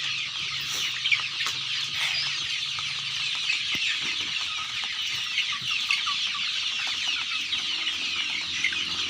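Chickens in a coop cluck steadily, several birds overlapping in a continuous, moderately close chatter with brief louder squawks and no talking.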